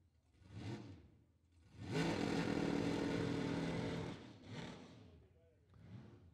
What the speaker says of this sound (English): Something about a roots blown gas engine.